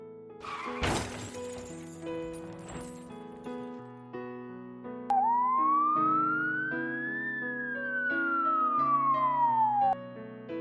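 A siren sound effect wails in one rising-then-falling sweep over background music, following a short shattering crash, quiet and close.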